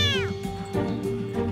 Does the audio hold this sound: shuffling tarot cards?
no